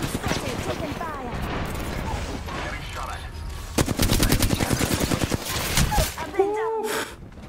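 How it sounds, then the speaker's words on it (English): Automatic gunfire from an Apex Legends match, with dense bursts of rapid shots and clattering mechanical weapon sounds, loudest in the second half, under scattered game voices and talk. "I'm spotted, taking fire."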